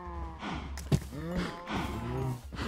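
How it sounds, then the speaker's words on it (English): Cows moo in the Minecraft video game, several drawn-out bellowing calls overlapping in quick succession, fairly close and clear, with a brief sharp knock partway through. "Why is there so many cows?"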